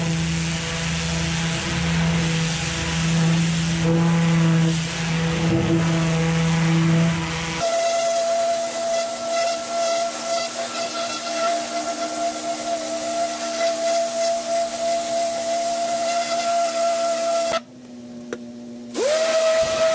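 A pressure washer driven by a Honda IGX800 engine sprays a brick wall. Its loud, steady hissing jet rides over a constant engine drone, shifting in tone partway through and briefly cutting out near the end.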